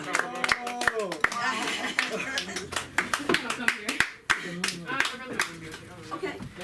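A comedy club audience applauds and cheers as a comedian is brought on stage, dense clapping with whoops running throughout, a voice calling out over the crowd.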